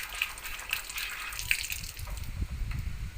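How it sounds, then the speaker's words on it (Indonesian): Hands rinsed under clean running water from a tap, a steady, close, continuous splashing flow with no talking. "Lalu bilas dengan air bersih."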